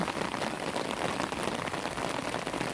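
Steady rain pours down on a cool day at a home with potted lotus plants nearby, a dense continuous hiss of drops striking surfaces, close and even throughout with no voices.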